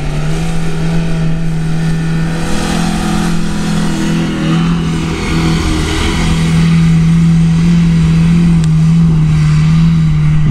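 A Niva car with a 1.9 L 120 hp engine strains to climb a hill and fails, its engine holding a loud, steady, droning rev close by for the whole stretch.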